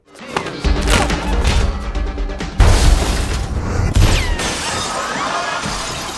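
Loud, chaotic bursts of gunfire crackle continuously, mixed with crashing and shattering glass in a dense, dramatic film action scene.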